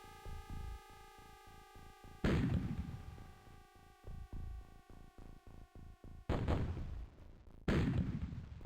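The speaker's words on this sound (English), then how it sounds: "Nice big explosions though." Explosions in the MS-DOS video game UFO: Enemy Unknown: three loud, booming blasts with decaying crackly tails, set between a rapid rhythmic series of low synthetic thuds over a steady electronic hum, with no talking.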